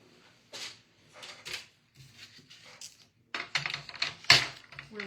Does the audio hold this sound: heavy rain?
no